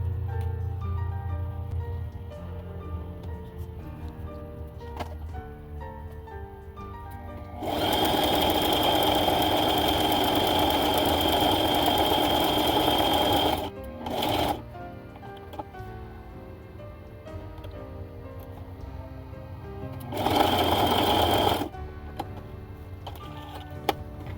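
A sewing machine stitches a liner onto a crochet bag in two bursts, a long steady whir then a shorter one, with quiet pauses and light handling noise between.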